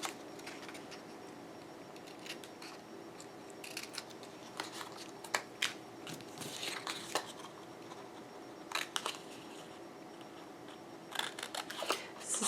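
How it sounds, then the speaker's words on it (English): Scissors snip the ends of layered scrapbook paper into pennant shapes, with scattered crisp cuts and paper rustles, close and fairly quiet over a low steady hum. "then we're going to cut some of the ends into pennant shapes"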